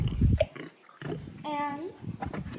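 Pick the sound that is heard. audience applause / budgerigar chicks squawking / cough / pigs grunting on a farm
pigs grunting on a farm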